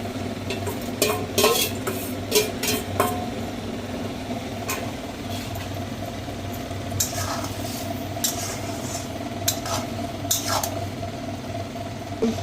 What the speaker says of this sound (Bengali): পকোড়াগুলো ভেজে রেখেছিলাম, এইবার এগুলো দিয়ে দেবো।